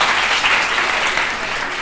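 Audience applause fills a live French-language podcast recording for its season finale, a steady dense clapping from the crowd that holds evenly throughout, with no voices over it.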